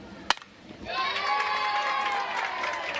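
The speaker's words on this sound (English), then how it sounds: "You hear the applause there." A crowd at a Little League baseball game breaks into applause and cheering after a sharp crack, a sustained mix of clapping and shouting with some whistles.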